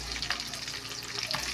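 Chopped onions fry in hot oil with cinnamon, cloves, cardamom and bay leaf for a stuffed chili pepper biryani, giving a steady close sizzle and crackle with faint stirring throughout.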